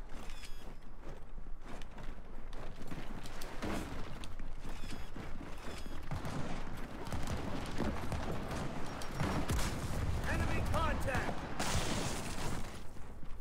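Rapid gunfire in the video game Gears of War 4 crackles in dense bursts with mechanical clatter, fairly quiet and continuous, with a player's voice talking at times.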